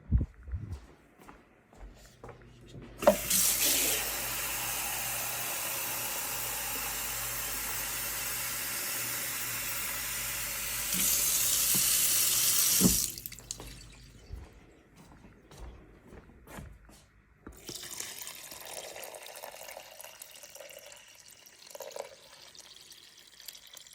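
Tap water pours into a rice pot, a loud steady rush lasting about ten seconds, bracketed by clinks and handling noises of the pot and kitchen before and after.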